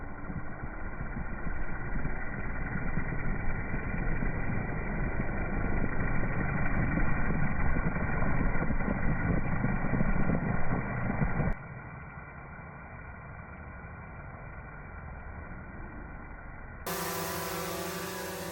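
A DJI Mavic 2 Zoom drone lifts off and flies with a loud, steady propeller whine and buzz that holds for about eleven seconds, then drops to a quieter, thinner hum. No one speaks.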